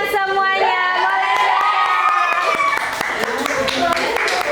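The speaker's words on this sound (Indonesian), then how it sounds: "Oke, kita tepuk tangan semuanya" A class of junior high school children clapping and cheering after an ice-breaking game, excited shouts and overlapping voices over a rapid spatter of hand claps, loud and close.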